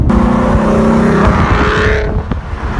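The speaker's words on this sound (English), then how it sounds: "every time you step on it a little bit, you actually hear the whistle from the intake" 2012 Ford Mustang with a 3.7L V6 and cold air intake revving hard, a loud close engine roar rising in pitch with intake whistle, then easing off and dropping back.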